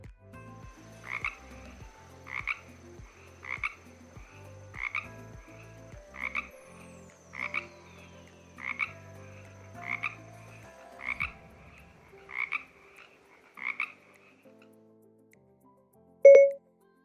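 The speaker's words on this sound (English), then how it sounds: "Here's a frog." A frog croaking in about ten evenly spaced, raspy pulses, close and clear against near silence, ending with a short electronic beep.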